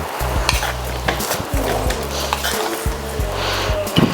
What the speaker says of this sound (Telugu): ఇప్పుడు పిండి పోసుకున్నాం కదండి,